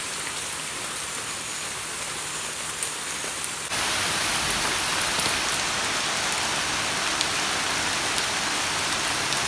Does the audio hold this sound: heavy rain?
yes